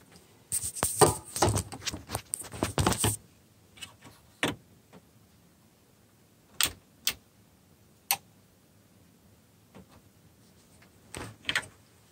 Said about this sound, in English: you'll hear some clicking going on inside the unit as it's powering up